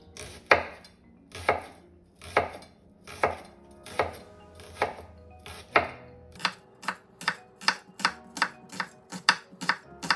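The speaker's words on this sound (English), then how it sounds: "the best way to chop up an onion is just to look on the lines on it and then just go all the way around the edge" A knife chops an onion on a board in steady, crisp strokes, slower at first and then quickening into a brisk run of close, distinct cuts with no talking.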